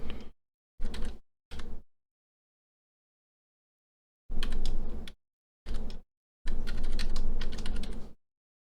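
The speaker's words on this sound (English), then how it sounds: "Type that in." Someone types on a computer keyboard in three short bursts of keystrokes, pauses, and then types in longer runs, each close and crisp against silence.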